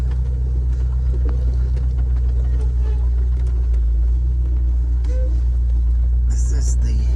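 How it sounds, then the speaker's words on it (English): Jeep driving along a farm trail beside a creek, a steady low engine rumble throughout with faint rattles, under quiet talk. "This is my first Jeep trip through here."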